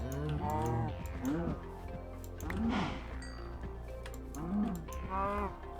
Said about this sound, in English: Oh, I see some cows over here.